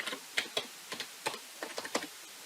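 A password being typed on a computer keyboard, with quiet, irregular key clicks in short clusters, close and alone.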